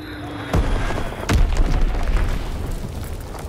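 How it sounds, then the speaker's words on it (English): A bomb blast in a shooter video game thumps in loud and close, a deep boom followed by a second heavier burst and a rumbling tail that lingers for several seconds. "Enemy bomb incoming."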